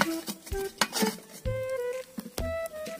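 Metallic clanks and clinks of a cooking pot and lid being handled up close outdoors, a few sharp knocks with ringing tones in between.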